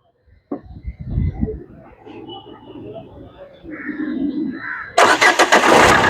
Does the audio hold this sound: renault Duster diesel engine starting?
yes